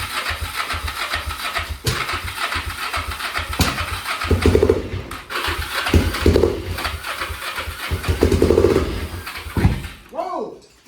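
A Kawasaki 454 motorcycle engine being revived runs roughly, popping and surging in uneven bursts close by, with speech over parts of it before it cuts out near the end.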